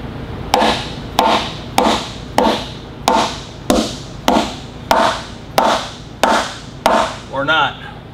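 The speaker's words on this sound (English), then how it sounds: "Couple of well-placed bumps with a hammer, it ought to just come right out." Eleven loud, evenly spaced hammer blows ring against a Detroit Diesel 12V71 engine cylinder liner, each with a short ringing decay, followed by a brief scraping sound.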